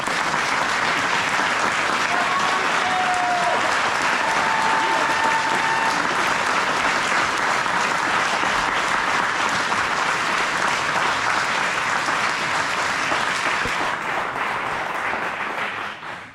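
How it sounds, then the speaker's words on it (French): A large audience claps steadily through a New Year's greeting reception, dense sustained applause that fills the room and tapers off only at the very end. "Merci d'applaudir une nouvelle fois Olivier Dussautois."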